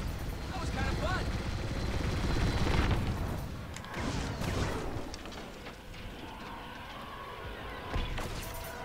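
Rapid bursts of heavy automatic rotary cannon fire from a Y-wing in Star Wars: Squadrons rattle and boom over a droning engine, with explosions and a voice talking in between.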